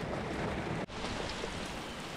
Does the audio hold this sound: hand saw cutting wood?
no